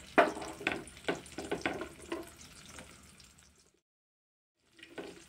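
Sliced onion and carrot go into hot white oil in a kadai, giving a soft sizzle with scraping stirs and clinks that fade into brief silence before another faint stir, quiet and close with no talk.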